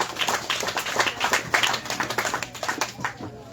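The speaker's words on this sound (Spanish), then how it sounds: "Fuerte aplauso también para el señor alcalde." A crowd at a street inauguration in Livingston, Guatemala claps for the mayor, a close, lively patter of many hands that swells and eases, then trails off at the end.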